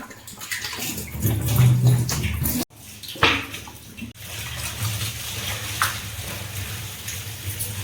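Water is poured and splashes into a kitchen sink in uneven bursts, with scrubbing and clunks as the sink is rinsed, close up.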